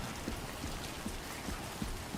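Steady rain falls in the video game Death Stranding 2, a dense even hiss with soft drops pattering through it at moderate loudness and no voices over it.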